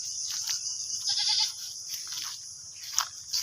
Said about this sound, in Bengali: এই যে এখানে ছাগলের পালন হয়। এই যে ছাগল